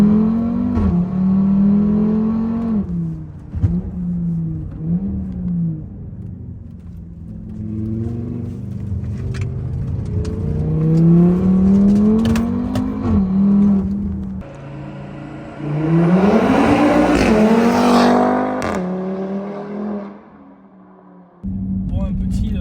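Audi RS3 stage 2 tuned to 480 hp accelerating hard in sport mode, engine note climbing through repeated rising pulls with shifts between them, loud and close from inside the cabin.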